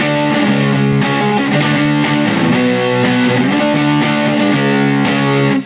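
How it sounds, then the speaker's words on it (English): Epiphone Les Paul Special II electric guitar through an MXR distortion pedal and a tube amp: loud, sustained, mellow-distorted chords ring continuously with rhythmic strums and no talking. "Go to my MXR Prime distortion. It's kind of a mellow distortion pedal."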